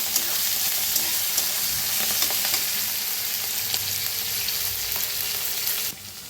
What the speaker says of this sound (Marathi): आता ह्याच्यात टाकूया थोडीशी कोथिंबीर, त्याला भाजून घ्यायचं।